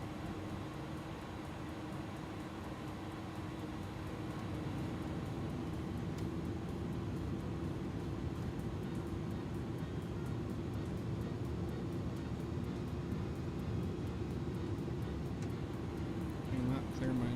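An Airbus A300 in a flight simulator game on a flight into Louisville: a steady broadband engine roar and airflow hum that holds through the clip and swells slightly near the end, with people talking over it.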